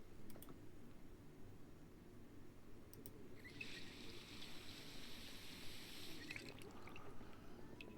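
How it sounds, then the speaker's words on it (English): Water filling a bucket in the survival game Project Zomboid, heard as a steady low running and pouring wash with a brighter hiss that swells about midway and continues to the end, with no talk over it. "So we're gonna actually fill this bucket with water."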